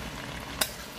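Pork belly frying in a pan while being stirred, a soft steady sizzle with one brief sharp scrape of the spoon midway, quiet and close.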